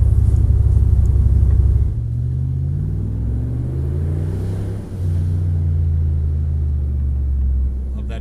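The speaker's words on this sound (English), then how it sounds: "Love that V8." A V8 off-road vehicle engine rumbles steadily while driving slowly in low range, loud and close, with a deep drone whose pitch shifts partway through.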